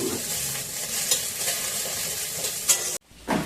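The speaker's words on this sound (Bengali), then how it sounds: "ডিমের মশলাটা একটু ভেজে নিই" Egg curry spice paste sizzles in a pan with a loud, steady frying hiss and occasional stirring scrapes, cutting off abruptly near the end before resuming briefly.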